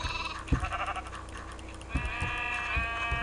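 Minecraft sheep on a sheep farm bleat several times, clear and fairly close, spaced apart over a steady background tone.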